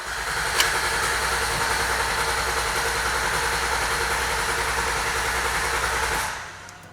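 A 2012 Honda Pilot's reassembled engine is cranked by the starter with the injectors off so it never fires, giving a steady, loud, rhythmic churn for about six seconds before cutting off abruptly.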